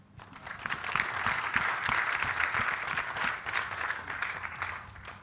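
Steady applause from an audience at an event honouring world-class athletes, swelling quickly and holding as a dense, even patter of many hands, moderately loud, with no talk over it.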